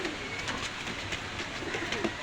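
Pigeons at a busy open-air pigeon market in Khulna, Bangladesh, give faint low coos within a dense steady hum of crowd and background noise, with no clear talk up close.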